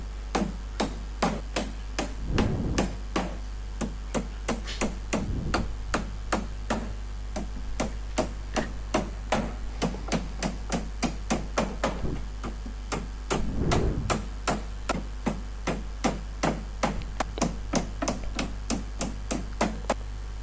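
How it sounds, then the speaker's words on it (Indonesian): Small nails are driven by hand with a hammer into scrap wood for a table, a long steady run of sharp, close taps at a brisk rhythm, with a few heavier thuds mixed in. "Semuanya dipukul pakai palu dengan menggunakan paku yang kecil."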